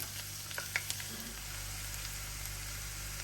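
Five cloves of chopped garlic fry in oil for pilau rice, a steady soft sizzle with a few faint clinks and stirring taps early on, fairly quiet and close, without speech.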